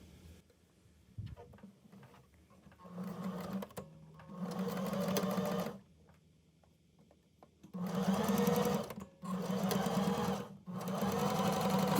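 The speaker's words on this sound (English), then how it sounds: "I then went over to the sewing machine" A sewing machine top-stitches folded fabric straps in several separate runs of steady, rapid needle clatter. Quiet pauses between the runs carry faint handling noises.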